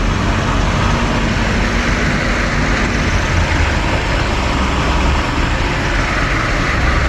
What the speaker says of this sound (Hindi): ट्रैक्टर को काफ़ी ज़ोर लगाना पड़ रहा है, मट्टी को वज़न बहुत ज़्यादा है।